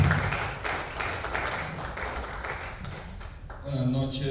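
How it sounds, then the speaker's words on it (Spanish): A congregation applauds during an evening church service, a dense wash of clapping held steady for several seconds before a voice rises over it near the end. "Dele ahora sí una ofrenda de palmas al Señor."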